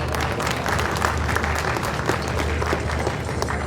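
An audience at a seminar hall ceremony gives sustained, dense applause, many hands clapping steadily at an even level for the whole stretch, with no clear talk over it.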